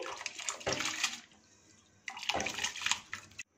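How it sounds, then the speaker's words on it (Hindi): Soaked rice poured into a pot of boiling water for sweet zarda rice, two splashing, rushing pours separated by a brief lull, close and fairly loud with no speech. "देखिए पानी बॉइलिंग पॉइंट पे आ गया है। इसमें भिगोए हुए चावलों को शामिल कर देंगे। चावलों को इस तरह से ऊपर से डालेंगे"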